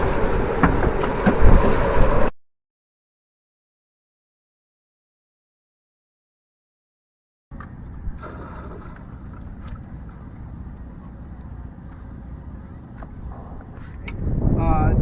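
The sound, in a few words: strong typhoon wind blowing around a boat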